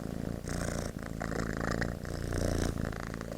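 A cat purrs close up in a steady, rumbling rhythm of breaths, with a brief louder bump at the very end.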